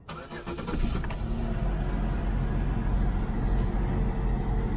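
A warped-dash old clunker car with about 146,000 miles cranks and catches, then settles into a steady, close, even idle that runs alone without pause.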